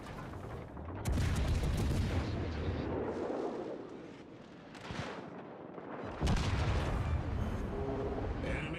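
Battleship guns firing in a naval video game, heard as heavy, deep booms: one big salvo near the start and another later, with rumbling decay between them.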